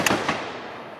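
Two sharp gunshot cracks in quick succession, close and loud, each trailing into a fading echo with no talk over them.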